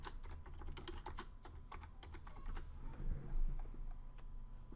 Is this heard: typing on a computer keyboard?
yes